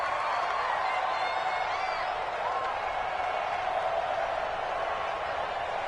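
Steady roar of a home crowd at a Buccaneers versus Saints football game in a stadium, a dense continuous wash of voices and cheering that holds at an even level throughout with no distinct individual words.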